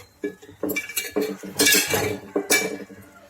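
A spoon adds a little ghee to chhanar payesh in a pan, giving several close metallic clinks and scrapes against the vessel in quick irregular succession.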